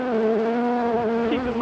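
Honeybees swarm over a honey frame lifted from a hive being split, giving a steady, close, continuous buzz that drones on without a break.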